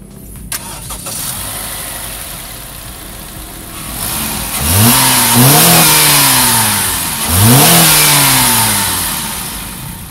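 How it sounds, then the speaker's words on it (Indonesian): A 9th-generation Honda Accord with a 2.4-litre K24 four-cylinder cranks and fires up, then settles to a steady idle before two strong revs rise and fall, recorded close with no talking. "Kita pengen denger suara mesinnya dulu."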